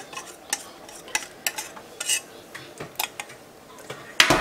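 A spoon stirs sauce poured over celeriac in a gratin dish, giving sparse, irregular scrapes and taps against the dish at close range. A louder clatter comes at the end, with no talking.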